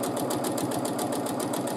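A sewing machine runs steadily for free motion quilting, its needle hammering in a fast even rhythm with a close mechanical motor hum and no voices.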